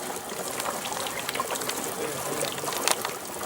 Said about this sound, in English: Now it starts to kind of gurgle.